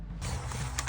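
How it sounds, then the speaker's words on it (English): A tripod is knocked into during an intake manifold install, giving a brief creaking, rattling mechanical clatter close to the microphone with a couple of sharper knocks near the end. "just knocked into my tripod."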